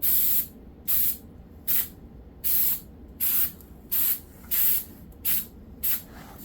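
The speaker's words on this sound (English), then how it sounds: "I'm going to take some high heat spray paint and spray this down" Repeated short bursts of high heat aerosol spray paint hissing from a can, about nine sprays in a steady rhythm, close and clear with quiet gaps between.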